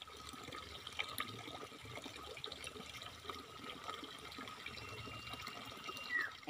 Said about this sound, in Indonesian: Air yang mengalir ke bawah tuh, mancur tuh luy.